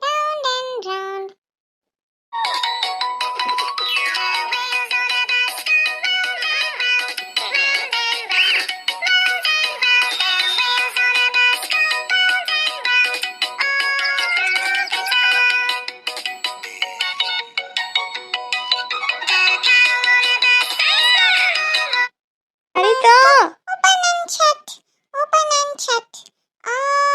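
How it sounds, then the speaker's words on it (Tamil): A mobile phone ringtone plays loudly and steadily for about twenty seconds, then stops, followed by a few short bursts of a voice, indoors at home. "அச்சோ ஃபோன்."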